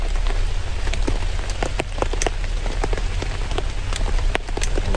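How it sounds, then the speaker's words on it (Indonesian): Heavy rain pours steadily on a campsite at midnight, a dense close hiss of drops pattering on surfaces with sharper individual splashes scattered throughout. "Hujan yang nggak boleh berhenti teman-teman ya."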